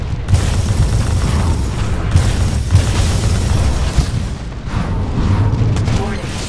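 Big Titan explosion in the video game Titanfall 2 during an Attrition match on the map Rise, a dense booming roar with low rumbling blasts that stays loud across the clip, mixed with ongoing battle noise.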